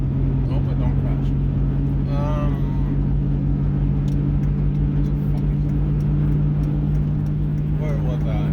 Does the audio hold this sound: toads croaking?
no